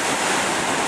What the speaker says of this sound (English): You can see the waves starting to smash over there on the other side.